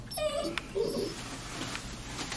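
A young black Labrador puppy whimpers in a few brief, high, thin whines, close by against a low background hum.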